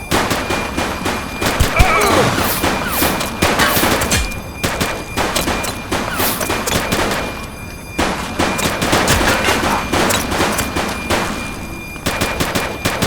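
Police shootout gunfire in the video game The Precinct: dense, rapid volleys of automatic and single shots crack close and loud throughout, broken by brief lulls, with shouted voices mixed among the shots.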